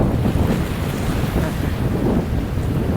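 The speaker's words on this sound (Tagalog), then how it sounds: "Yung mga lakas ng alon ng Manila Bay." Strong storm waves crash and surge along the rocky edge of Manila Bay, a dense, continuous roar of surf mixed with heavy wind buffeting the microphone, loud and close throughout without any speech.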